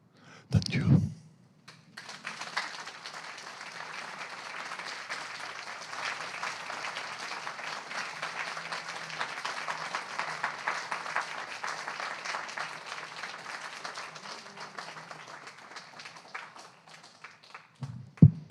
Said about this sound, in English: Let's give another round of applause for Ilya Kaminsky.